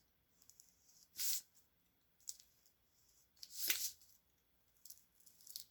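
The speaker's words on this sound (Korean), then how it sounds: "칼로 이 모양을 오려내고 있는데" A craft knife cuts out a shape from paper (later coloured and backed with foil) in short, raspy scraping strokes, two louder slicing passes standing out among quieter scratches, close and without talk.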